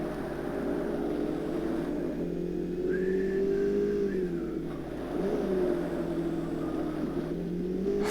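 A Ferrari engine in Forza Motorsport holds a steady droning tone with gentle rises and dips in pitch as it revs, continuous and moderately loud with no speech.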